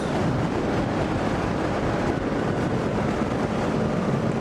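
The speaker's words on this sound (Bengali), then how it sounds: "প্রচুর বাতাস" Strong wind buffets the microphone during road travel toward Kanchpur bridge, a continuous loud low roar and rumble with no break and no speech.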